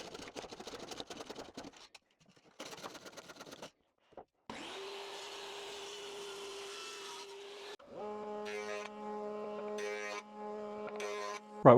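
A power saw runs steadily for a few seconds, cutting a piece out of a large wooden board for thin strips for a plaid end grain cutting board. A droning motor with harmonic whine follows, among scattered workshop noises.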